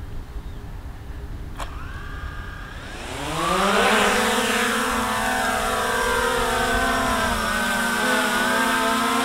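A Hubsan Zino 2 drone spins up its propellers and takes off nearby, its whine climbing in pitch and loudness over a second or two, then holding as a steady buzzing hover with slight pitch wobbles.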